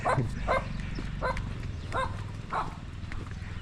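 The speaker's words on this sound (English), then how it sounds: "the dog is barking a lot" A dog barks repeatedly at a distance in a hillside village near Sapa, Vietnam, about five evenly spaced barks over a low rumbling background of engine noise.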